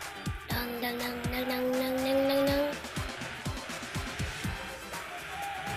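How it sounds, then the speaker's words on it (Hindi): A Bugatti supercar racing in Need for Speed Most Wanted, the engine revving up through the gears with tires squealing, loud and steady throughout. "ये हमारी बुकाटी आ गई है रेस के अंदर।"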